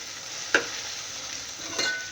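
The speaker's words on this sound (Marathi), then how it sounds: "टाकून घेतली ती छानपैकी मस्त त्या कांद्यामध्ये मिक्स करून घ्यायची." Ginger-garlic-chili paste being stirred into onions frying in a pan, with a steady sizzle and two distinct scrapes of the spoon, one early and one near the end.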